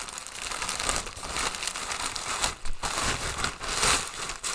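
A large parcel is torn open by hand, producing continuous crinkling and rustling of packaging with sharper tearing bursts, close and moderately loud with no voices.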